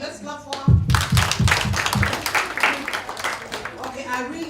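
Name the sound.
audience applause at workshop closing ceremony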